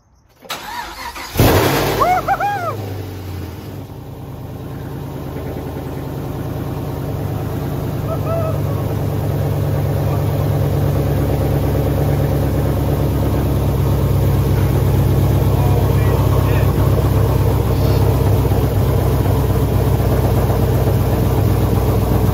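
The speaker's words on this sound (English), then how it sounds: "We're about to turn over the engine for the first time." A 2011 Chevrolet Camaro SS fitted with a new supercharger and camshaft is started for the first time: the starter cranks briefly, then the engine catches and settles into a steady, loud, rumbling idle that grows fuller and holds to the end.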